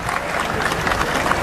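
An audience at a youth event stage in Ujjain claps together in a dense, continuous burst of applause, loud and sustained for its brief length.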